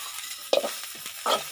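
Potatoes are stir-fried in a pan: two short bursts of scraping and sizzling close by, with quiet frying between them.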